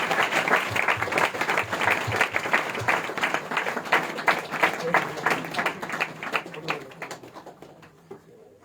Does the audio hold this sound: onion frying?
no